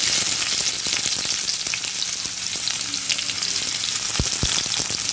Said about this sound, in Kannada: ಒಂದು ನಾಲ್ಕೈದು ಸ್ಪೂನ್ ಎಣ್ಣೆ ಬಿಸಿ ಆಗಲಿ ಇದಕ್ಕೆ ಸಾಸಿವೆ ಹಾಕಿಕೊಳ್ಳಬೇಕು ಮತ್ತು ನೀರುಳ್ಳಿ